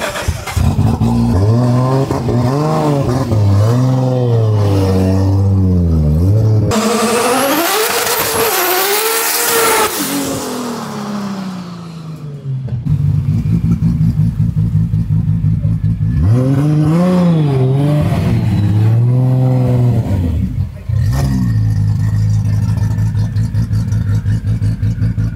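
A widebody R32 Nissan Skyline GT-R engine roars close and loud, revving up and down through repeated gear changes as it accelerates hard, with a brief rushing whoosh mid-way.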